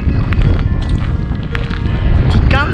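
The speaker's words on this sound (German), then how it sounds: "es windet sehr stark" Strong wind buffeting the microphone on a beach in Golden Bay, New Zealand, a loud continuous low roar with gusty swells, with faint higher clicks and rustles over it and no clear talk.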